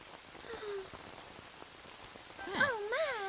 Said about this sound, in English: When will it stop raining?